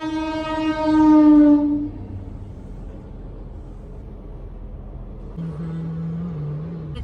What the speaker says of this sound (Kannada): ಟ್ರೈನ್ ಪಾಸ್ ಆಗುತ್ತೆ, ಅದು ಗೇಟ್ ಕ್ಲೋಸ್ ಮಾಡ್ತಾರಲ್ಲ